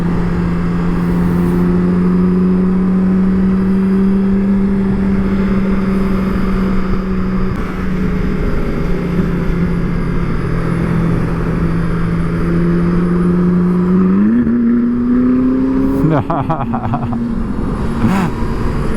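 A 2022 BMW S1000RR superbike engine holds a loud, steady high-pitched drone, then swells in a rising rev before a brief clattering burst near the end.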